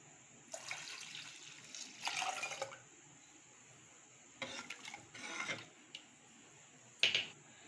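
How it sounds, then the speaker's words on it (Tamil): About 500 ml of water is poured into a pot holding rava and mashed dal for rava pongal, heard as several short splashing pours with quiet pauses between them. "500 மில்லி தண்ணி ஊற்றிக்கலாமுங்க."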